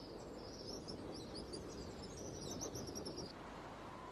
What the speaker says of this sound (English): Red-winged starlings mob her as she starts off